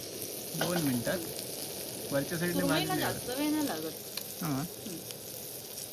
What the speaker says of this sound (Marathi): 2 मिनिटात वरच्या साईडने सुरमईला भाजली.